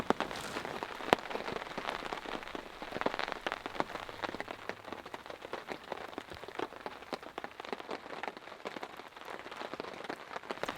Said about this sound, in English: as you all can hear, it's raining rather nicely